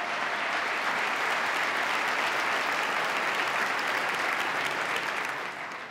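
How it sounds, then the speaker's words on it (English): Large-hall applause at a State of the State address for a new county executive, a loud, dense, sustained roar of clapping that fades slightly at the end. "Let's give the new county executive a round of applause."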